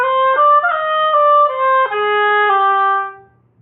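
A solo oboe plays a grace-note triplet figure from an all-state etude, with clear, close legato notes stepping through a short phrase before the last note fades out, and no talking.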